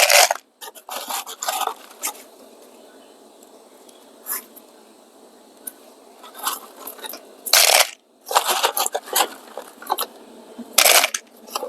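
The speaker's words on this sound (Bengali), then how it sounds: "যাই এখানে আমরা পাথর দিয়ে দিচ্ছি" Small stones poured in short rattling bursts into a clay flower pot while potting an oleander cutting, with clattering pours spread across the span and quieter scattered pebble clicks between them.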